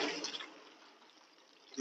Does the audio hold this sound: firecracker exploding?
no